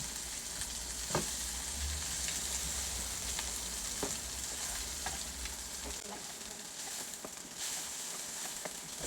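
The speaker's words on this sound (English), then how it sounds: "I am just trying to get a color on them so that the meatballs doesn't break when I put them in the sauce" Turkey meatballs browning in a hot pan for a pasta dish, with a steady, close sizzle throughout and occasional sharp taps from stirring or turning them.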